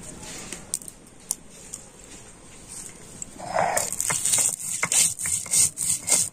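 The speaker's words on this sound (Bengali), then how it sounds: "তো বন্ধুরা আমি শিলনোড়াতে মশলাটা গুঁড়ো করে নিচ্ছি" Roasted spices for a mango pickle are ground on a flat stone slab with a stone pestle (shil-nora), giving soft scraping rubs that turn into louder, rhythmic grinding strokes in the second half, close by and without talk.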